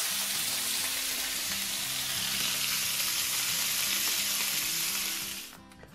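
Pork shoulder searing in a hot pan, a loud, dense, steady sizzle up close that suddenly drops away near the end.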